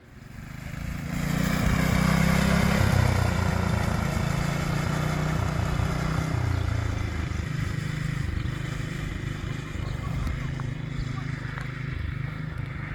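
A tote goat utility vehicle fitted with a Honda engine runs on a farm, giving a steady, loud low engine drone that holds throughout.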